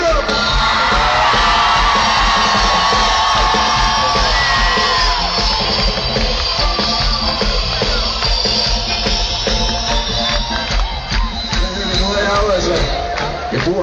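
A large festival crowd at Smukfest in Skanderborg yells, whoops and cheers loudly and continuously for the whole stretch, a dense roar with scattered shouts.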